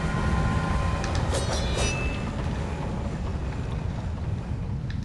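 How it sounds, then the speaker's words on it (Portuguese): A train departing in the video game Alice Madness Returns: a loud, broad rushing roar with brief metallic squeals early on, fading slightly as it moves away. "O trem, espere trem."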